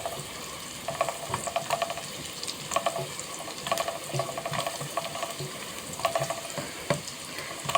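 Onion frying in ghee in a pan makes a soft, continuous sizzle with intermittent scraping stirs and light clinks, close and fairly quiet.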